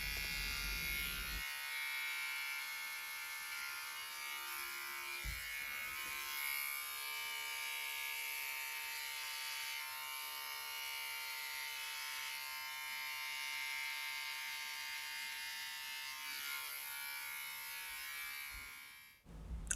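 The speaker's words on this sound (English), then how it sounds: "I pull my ear forward and move the blade across just to make sure I've captured all the hair." Electric clippers set to grade 0 buzz steadily as they shave a balding man's head behind the ear, a close, continuous droning hum with slight shifts in pitch as the blade moves, stopping near the end.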